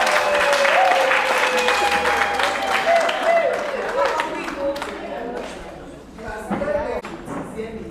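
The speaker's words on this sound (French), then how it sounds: "Donc vraiment, applaudissons pour nous." An audience at a women's association assessment meeting chaired by a town mayor claps loudly and continuously, and the applause thins out toward the end. Voices and chatter can be heard mixed into the clapping.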